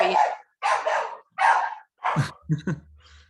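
A dog barks in a series of about four or five sharp, close barks spaced roughly half a second apart, ending with a couple of quick shorter yips over a low hum.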